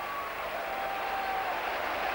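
Football crowd of about 14,000 cheering and applauding a goal, a steady, broad roar of voices and clapping that holds evenly throughout, heard from a distance.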